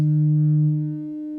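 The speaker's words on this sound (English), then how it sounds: "So the waveform is an analog sine wave" A steady, pure analog sine wave tone from a ModAmp Module 1005 synthesizer, with a low fundamental and faint overtones, one part fading slightly after a second, ending abruptly.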